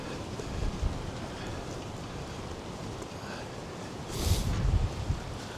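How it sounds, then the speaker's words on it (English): Wind gusting across the deck of the Battleship New Jersey on the Delaware River, a steady low buffeting rumble into the microphone with a stronger gust near the end. "it's very windy today"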